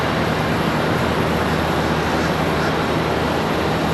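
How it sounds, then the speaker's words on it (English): Contour Airlines ERJ regional jet touching down at Charlotte Douglas airport, a loud, steady broadband engine roar with a low rumble held throughout, heard from nearby with no talking. "got another Contour Airlines ERJ touching down"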